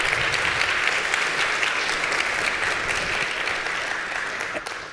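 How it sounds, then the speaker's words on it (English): A conference audience breaks into steady applause for two engineers, a dense wash of clapping that holds level and then begins to taper toward the end. "Can I get a round of applause for them?"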